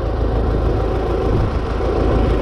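A GAZ-53 truck engine idles steadily in freezing weather around minus three degrees, a continuous low rumbling drone that stays loud and even throughout with no voices.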